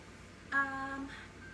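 A phone alarm on a nearby handset sounds abruptly, a short bright electronic tone chirping for about a second before fading into quiet room tone, with no voices.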